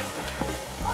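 Golden-fried onions are poured from a frying pan into a pot over high heat while cooking plov, giving a brief, dense hiss of sizzling oil.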